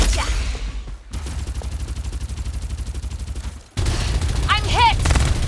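Rapid automatic gunfire in the mobile shooter game Farlight 84: a loud, continuous burst of evenly spaced shots, then a short pause before more firing resumes, with brief game effects mixed in.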